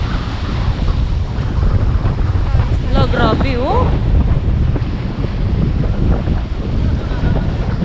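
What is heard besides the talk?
waves crashing against boat in wind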